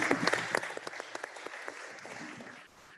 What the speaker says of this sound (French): Je vais vous demander d'applaudir Davy et Christophe